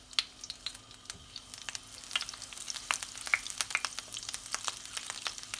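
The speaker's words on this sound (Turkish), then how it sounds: "İlk etapta şu tereyağımızı da eritelim. Sıvı yağımızın içine tereyağımızı da ilave ettik." Butter melts into hot oil in a pan for menemen, with a light, quiet sizzle broken by frequent sharp spits and pops scattered irregularly over a low background hum.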